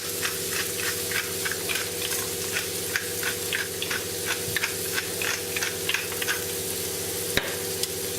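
Cabbage frying in butter in a pan on a fairly hot hob, a steady close sizzle with repeated stirring scrapes and light ticks throughout, no talk.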